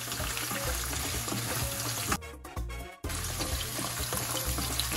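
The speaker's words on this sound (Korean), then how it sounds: "제가 지금 마늘을 볶고 이렇게 마늘 넉넉하게" Garlic frying in a pan for gambas al ajillo gives a steady, close sizzle and crackle. A brief dip in the middle sounds like the pan being moved or stirred, and no one speaks.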